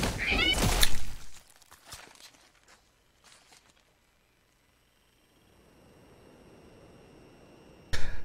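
A cat meows in a short burst at the start, followed by quiet rustling and a faint background hum, with a sharp sound at the very end.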